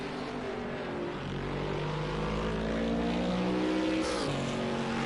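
Racing video game engine drone from a GT4 race car at Oschersleben, a steady multi-harmonic note held loud and close throughout, with a brief shift near the end as if downshifting under braking.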